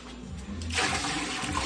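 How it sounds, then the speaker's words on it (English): Water is poured by hand into a toilet that has no flush, a rushing, gurgling wash of liquid swelling midway and continuing briefly, fairly close in a small bathroom. "There is no flush, so you've got to pour the water"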